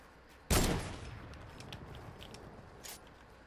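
A single loud close gunshot cracks out in the Fortnite video game, then decays, followed by a few fainter shots and scattered light clicks.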